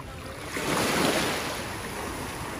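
Ocean surf breaking on the beach at Katsuura, Japan, a broad steady wash of waves that swells for a moment near the middle and then settles, heard with wind buffeting the microphone and no voices.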